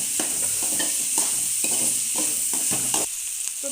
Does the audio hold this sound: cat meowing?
no